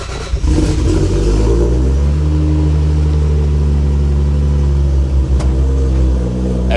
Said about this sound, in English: This is the first attempt of a cold start.